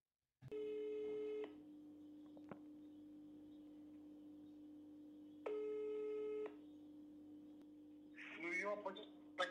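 Two long electronic telephone ring tones separated by a quiet pause, followed by a brief voice answering.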